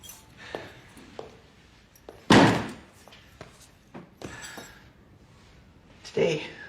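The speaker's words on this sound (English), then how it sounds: "open the door." A door is opened and then slammed shut with one loud, heavy thud, among lighter knocks and clicks, in a World War II film scene where people talk quietly.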